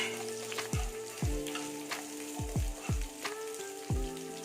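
Small round-sliced shallots sauté in hot oil in a pan, a steady crackling sizzle punctuated by regular, dull stirring knocks of a spoon against the pan, close and clear.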